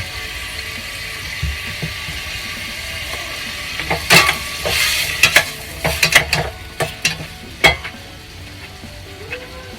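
Tomatoes and onions sautéing in a pan for a shrimp dish, a steady sizzle under a series of sharp scraping and stirring clicks from a utensil against the pan, close and clear.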